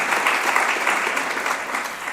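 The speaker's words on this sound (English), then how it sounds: "Please give them all a round of applause" An audience at an evening event gives a sustained round of applause, dense, even clapping that holds steady throughout with no talk over it.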